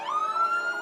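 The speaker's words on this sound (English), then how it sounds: "The fire trucks going by, the lights, the sirens." A fire truck siren wails loud and close at the Miracle on Main Street parade, one steady rising tone with no talk over it.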